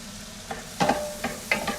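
Onions fry in a pan with olive oil, giving a soft sizzle punctuated by several brief scraping stirs, quiet and close.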